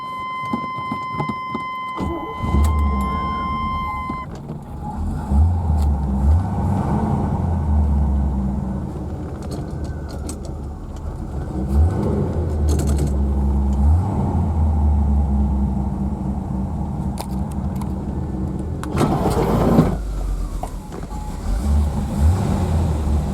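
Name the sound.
1980 Chevy Corvette engine starting and running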